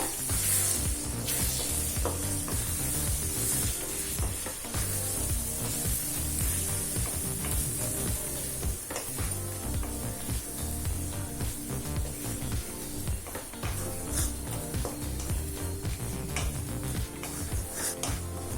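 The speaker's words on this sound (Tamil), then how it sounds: "இப்போ 1 நிமிஷம் வரைக்கும் நல்லா வதக்கிக்கலாம்." Eggs and onions sauté in a hot pan with a constant bright sizzle, broken by occasional scraping stirs and light clinks of a utensil against the pan, close and steady with no talk.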